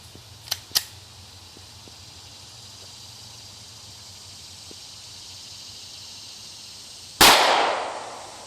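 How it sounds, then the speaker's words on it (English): A single sharp 9mm gunshot firing a Federal HST 124 grain hollow point cracks loudly near the end with a decaying tail, following a quiet stretch with a couple of faint clicks. "first we're going to start with 9mm, the Federal HST 124 grain hollow point"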